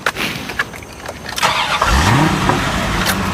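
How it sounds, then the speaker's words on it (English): A car engine cranks and catches, then settles into a steady running rumble, loud and close inside the vehicle, with no voices over it. "All right, start the car."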